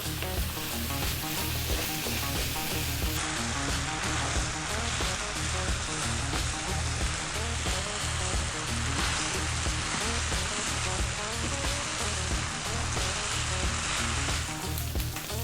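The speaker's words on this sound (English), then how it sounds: "That is your rice frying." Loud, steady sizzling of rice frying in a hot pan, a dense crackling hiss that continues without pause and without any talking.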